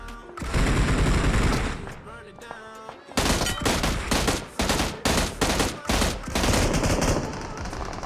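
Rapid bursts of automatic rifle fire from a bot in a zombie-mode video game shooter, loud and close, with a long volley followed by several short, separate staccato bursts.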